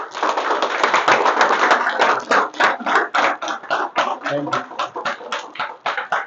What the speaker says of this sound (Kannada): ಸೊ ಅವ್ರಿಗೆ ಒಂದ್ ದೊಡ್ಡ ಚಪ್ಪಾಳೆ